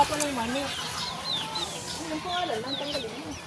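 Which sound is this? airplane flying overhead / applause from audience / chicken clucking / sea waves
chicken clucking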